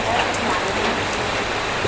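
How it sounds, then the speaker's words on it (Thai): Steady rain patters and hisses on surfaces, a dense, continuous wash of droplets filling the short stretch without pause. "วันนี้มากับสายฝนเลย"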